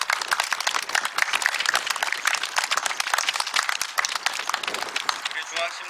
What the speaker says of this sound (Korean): 우리 하나님께 영광의 박수를 함께 올려드리도록 하겠습니다